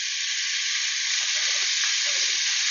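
Burger patties sizzle loudly in a very hot pan, a steady, close hiss of searing meat with faint crackles and no talking.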